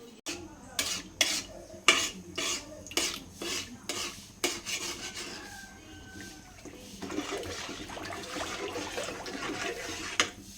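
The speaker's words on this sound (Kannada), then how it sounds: "ಆ ಅಳತೆಯಲ್ಲಿ ನಾನು ನೀರು ಹಾಕ್ಕೊಂಡು ಮಿಕ್ಸ್ ಮಾಡ್ಕೊತಾ ಇದ್ದೀನಿ" Water being stirred into rice in a pot for tomato bath, with a run of sharp spoon clinks against the vessel followed by steadier swishing and scraping, close and alone without talk.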